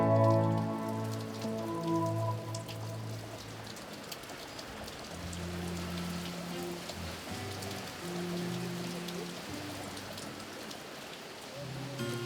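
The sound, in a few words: rain falling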